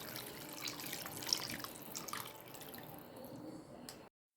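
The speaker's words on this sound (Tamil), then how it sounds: "நான் மிக்ஸி ஜாரை கழுவி தாங்க தண்ணி ஊற்றுறேன்" Water trickles and splashes from a rinsed mixer-grinder jar into a pot, a steady watery pour with small drips, heard up close and alone before it stops abruptly.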